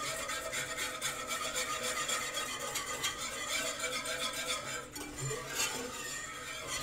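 Heavy whipping cream is stirred into a chicken pot pie filling in a pot, giving a soft, continuous wet rubbing and scraping at close range, fairly quiet, with no talk.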